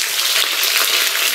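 Cumin seeds and curry leaves splutter in hot oil for lemon rice, a close, bright, continuous sizzle with crackling pops.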